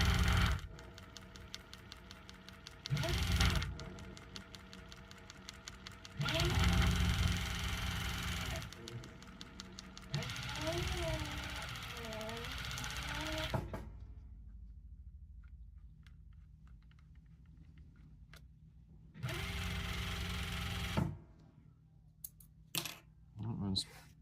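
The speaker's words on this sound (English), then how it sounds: "when you kick it into gear, once the needle hits, it'll try and grab it up" A Merrow sewing machine stitches a custom twill patch in several bursts of rapid, even mechanical clatter with a running motor whine, separated by pauses and a few small clicks, close by.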